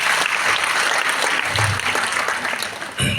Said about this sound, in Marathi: मनापासून जोरदार टाळ्या झाल्या पाहिजे मित्रांनो